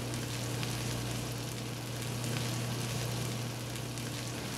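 Onions caramelize in a pan with a steady, even sizzle and crackle at moderate volume, joined by a low constant hum.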